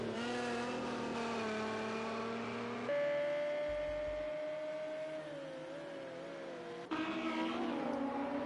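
Racing car engines in Project CARS 2 drone and whine steadily, with pitch shifting as gears change and one car's note rising over another, plus a short low rumble midway and a sharp jump at the end.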